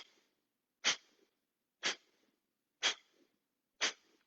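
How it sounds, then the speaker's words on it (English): Kapalbhati pranayama, the breath of fire, done as four sharp forceful exhalations through the nose spaced about a second apart, each a short hissing burst followed by quiet, close and clear with no talk. "when you can do a Kapalbhati Pranayama called breath of fire"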